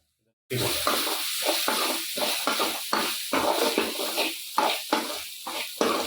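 Beef curry masala with turmeric and salt sautés and fries in a pan, a steady sizzle broken by repeated stirring scrapes in an irregular rhythm, close and fairly loud, with faint talk.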